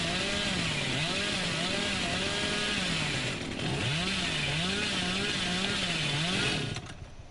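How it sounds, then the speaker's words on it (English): A chainsaw in the Dead by Daylight video game revs hard and steadily for several seconds, its pitch wavering up and down in loud sweeps before cutting off near the end. "Chainsaw might not charge up super fast,"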